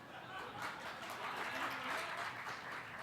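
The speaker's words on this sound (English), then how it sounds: "Are you clapping for him or for me?" Audience at a literature festival panel on elections applauding, a faint, dense patter of clapping mixed with scattered chuckles from the crowd.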